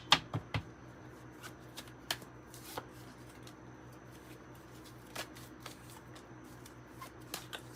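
Quiet, sparse oracle card handling with a few sharp riffle-like taps and soft rustles, mostly in a hushed room with no voices.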